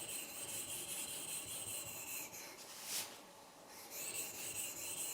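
A plane blade is rubbed steadily across a King 1000 grit waterstone, giving a soft continuous scraping hiss with a brief swell midway, quiet and without talk.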